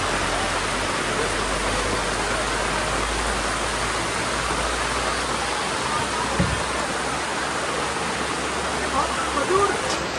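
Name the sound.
heavy rain still falling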